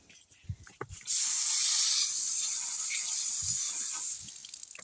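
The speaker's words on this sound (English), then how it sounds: "Wow, that spray did actually really well." Cleaner is sprayed onto druzy quartz crystals, a single sustained hissing burst of about three seconds, close and loud, with light handling knocks before it.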